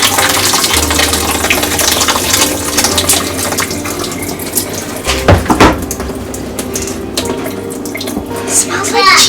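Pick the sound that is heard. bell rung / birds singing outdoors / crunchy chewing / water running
water running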